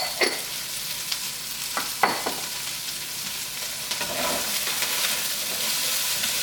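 Vegetables with onion and pepper stir-fry in a hot pan, a steady close sizzle broken by a few scraping stirs of the spatula, with no talking.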